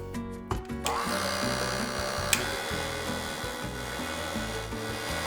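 Wet cake batter for sticky toffee pudding being stirred in a bowl, a steady close scraping and rubbing that runs unbroken, with a few brief knocks near the start.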